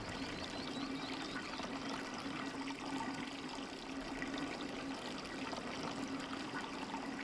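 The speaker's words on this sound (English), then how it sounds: "Can I see the water level rising from here?" Water rushes and churns steadily as the level rises in the Riven remake, a continuous washing flow with a low hum beneath, unbroken for about seven seconds.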